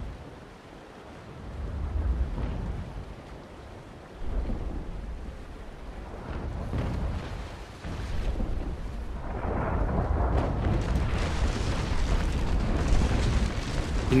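Cannon fire from a fortress in the naval sailing game Naval Action, heard as rolling, distant booms and rumbling blasts over steady sea-like wash, building in intensity toward the end.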